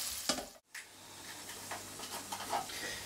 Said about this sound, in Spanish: Mientras se nos va sofriendo la cebolla, en esta cacharra la tenemos a fuego lento